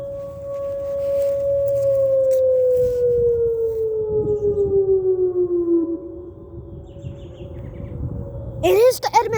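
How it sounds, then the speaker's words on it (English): Outdoor tornado warning siren in Edmond, Oklahoma drones loud and steady, slowly falling in pitch and pulsing as it rotates, then a burst of rising and falling wails near the end. "It is the Edmund sirens!"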